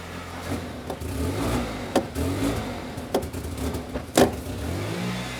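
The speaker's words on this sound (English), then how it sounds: "Now the engine is running. I'm gonna snap the throttle." A Toyota Corolla engine with a dead fuel pump idles roughly at close range, with several sharp throttle snaps that bring short bursts of revving over the running engine.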